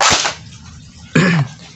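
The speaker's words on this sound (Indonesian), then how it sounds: "Itu ada 4 tembakan" An airsoft M416 AEG rifle (Dcobra build converted to AEG) fires semi-auto shots: two sharp snapping cracks about a second apart, close and loud, each followed by a short mechanical ring.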